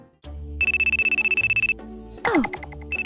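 A phone rings for an incoming call, a loud, pulsing electronic ringtone of rapid repeated beeps, briefly interrupted by a swooping tone before the ringing resumes.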